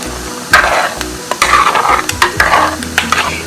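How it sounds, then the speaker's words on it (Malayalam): Raw banana pieces frying in a pan, with repeated scraping stir strokes over a bubbling sizzle, close and fairly loud, the strokes coming in uneven bursts. "ഒരു ഗോൾഡൻ കളർ ആവണ വരെ ഒന്ന് ഫ്രൈ ആക്കണം"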